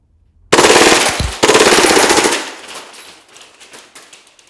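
A Glock-style pistol fitted with a conversion kit fires on full auto. Two loud, rapid bursts sound close up, the second following right after the first, and then the noise fades into echoing reverberation.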